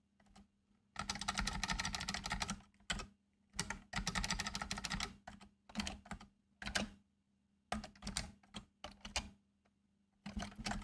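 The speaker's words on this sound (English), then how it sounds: "I'm typing completely random things" Bursts of rapid typing on a computer keyboard, dense clattering runs of keystrokes broken by short pauses and isolated taps, close and clear with no talking.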